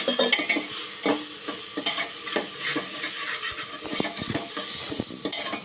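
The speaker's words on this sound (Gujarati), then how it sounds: "હવે આપણે પાછળ આ સોયાબીનની વડી નાખી દઈશું. સરસ મજાની ગ્રેવીને હલાવી." Gravy with soybean chunks stirred in a pan, repeated scraping and clinking strokes of a spoon over a constant sizzle, close and busy for the whole stretch with no talking.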